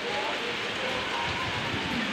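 Rain falls outdoors during a truck gathering, making a steady, soft wash of patter and hiss that runs throughout with no clear gaps.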